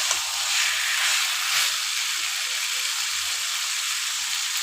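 Chicken pieces sautéing in oil in a pan for a gravy, cooked down until the oil separates, producing a continuous close hiss of sizzling that holds level from start to finish.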